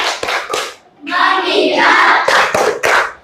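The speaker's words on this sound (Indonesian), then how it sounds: "Tepuk fokus." Fifth-grade pupils in a classroom perform a rhythmic group clapping routine, with a few sharp claps at the start and end around a louder sustained burst of hands and children's voices.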